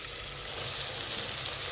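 Capsicum sautéing in a pan, giving a steady, close sizzle and hiss of frying that holds even throughout with no talk.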